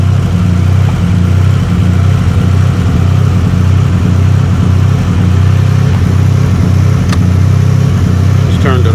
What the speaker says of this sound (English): the engine jumping so much